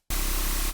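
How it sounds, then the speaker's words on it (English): Synthesized white noise, one short loud burst of harsh hiss under a second long, starting abruptly and fading quickly at the end, heard alone. "I'm just gonna add some white noise"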